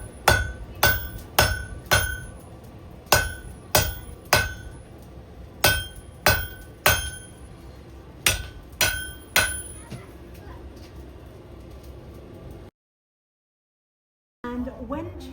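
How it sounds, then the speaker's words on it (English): A blacksmith hammers metal over an anvil while forging a reverse square point: about fourteen sharp, ringing strikes in uneven bursts, close and loud, followed by silence and faint voices. "Back over the anvil. Doing a reverse square point."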